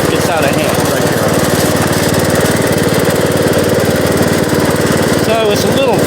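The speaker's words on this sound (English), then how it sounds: "I am very thankful that I have this riding mower" A Bolens riding lawn mower runs loud and close, its engine chugging in a steady, rough pulsing drone that never lets up.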